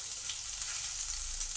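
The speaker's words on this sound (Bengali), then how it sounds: "লঙ্কার জিরেটা ভাজা হয়ে গেছে।" Cumin seeds, chili and grated ginger fry in hot oil in a pan for cauliflower samosa filling, giving a steady, close sizzling hiss that runs unbroken without any voices.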